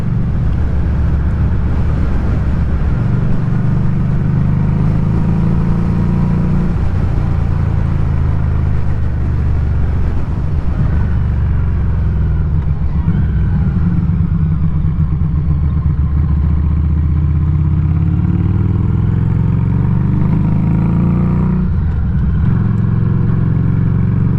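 A Harley-Davidson Street 500 motorcycle engine drones steadily while riding on a breezy day, with heavy wind buffeting the microphone and the engine note shifting gradually as speed changes.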